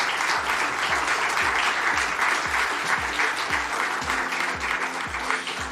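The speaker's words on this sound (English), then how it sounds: "let us welcome them with a warm applause" Audience at a tourism panel conference applauding to welcome speakers, a dense continuous wash of clapping from many hands with a steady rhythmic beat running through it.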